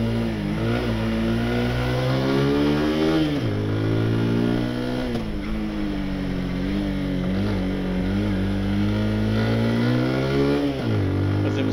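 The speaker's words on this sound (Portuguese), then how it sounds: "Vou deixar vocês ouvir um pouco aí o som do motor aqui" A Haojue DR 160 motorcycle engine revs and accelerates down a short straight, its droning note rising repeatedly through the gears, loud and close throughout with steady wind rush.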